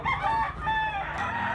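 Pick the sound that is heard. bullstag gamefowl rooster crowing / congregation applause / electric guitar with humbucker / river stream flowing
bullstag gamefowl rooster crowing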